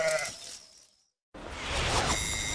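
Sheep bleat in a nasal, wavering cry that fades out, then after a short silence a noisier, louder stretch of bleating and rustle returns, fairly close.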